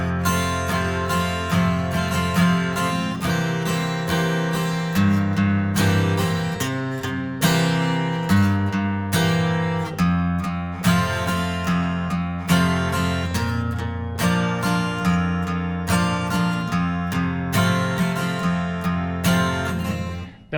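Guitar plays the last verse of a song, with rhythmic strummed chords in a steady, even pulse, clear and alone, with no voice over it.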